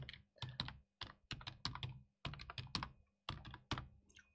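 Keystrokes on a computer keyboard while entering text in tradesman's business software, arriving in several quick bursts of close, crisp clicks separated by short pauses.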